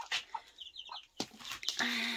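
A hen clucks in short, close bursts with chicks hidden beneath her, with small high chirps mixed in and a soft rustle toward the end.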